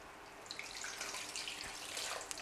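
Water poured in a steady stream onto grated fresh coconut while making Thai-style coconut milk, 800 millilitres in all, a close, continuous splashing and trickling with no talk.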